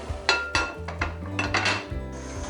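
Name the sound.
pot lid being opened while cooking vegetable pulao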